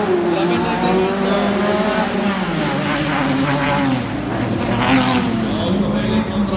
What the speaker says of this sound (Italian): con un colpo di freno a mano, la mette in traverso